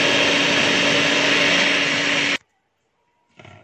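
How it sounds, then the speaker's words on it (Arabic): A loud, steady whirring roar of an electric blender churning homemade butter close by, cutting off abruptly, followed by silence and a brief restart. "بحبش ان انا اشغل الخلاط يعني في التصوير بتاعي عشان الازعاج"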